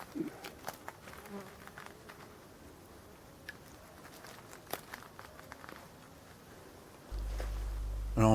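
Faint insect buzzing from hornets attacking a wild honeybee colony on a tree trunk in a Breton marsh, low and steady with scattered small ticks and rustles, ending in a louder burst of handling noise.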